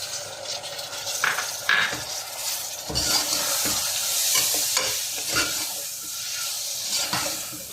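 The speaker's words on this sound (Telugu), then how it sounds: "ఇప్పుడు టమాటాలు వేసుకుందాం ఫ్రెండ్స్." Tomatoes sizzling and frying in a pan while a spoon stirs them, with steady hiss and frequent scraping and clinking strokes close by.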